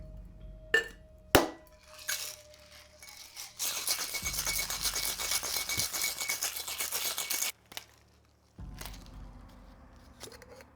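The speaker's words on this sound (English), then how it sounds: "Add ice. And shake." Ice rattling in a cocktail shaker, a dense, steady shaking clatter lasting about four seconds, close and moderately loud, with scattered clinks of ice and glass before and after.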